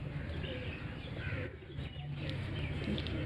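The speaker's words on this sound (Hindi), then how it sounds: "ये आ गया हमारा सलारा कबूतर।" A pigeon from a fancier's flock of competition high-flyers coos softly and repeatedly, close by against a steady background hum, with faint chirps mixed in.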